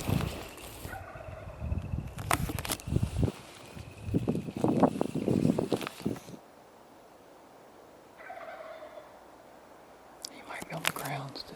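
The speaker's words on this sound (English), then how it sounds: "there's a turkey gobbling down here" Wild turkey gobbling outdoors on South Dakota public land during a hunt, heard as a few rattling gobble bursts at moderate distance, with some breathy whispering nearby and quiet gaps between calls.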